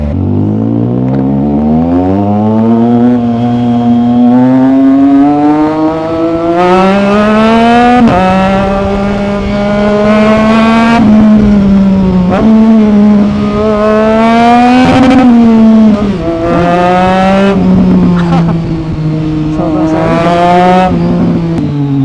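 A 2025 Triumph Trident 660 with a cut, delete and aftermarket exhaust revs loud and close, its engine note climbing and falling through repeated throttle blips with a crisp, crackling edge.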